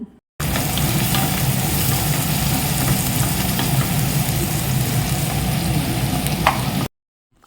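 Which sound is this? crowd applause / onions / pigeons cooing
onions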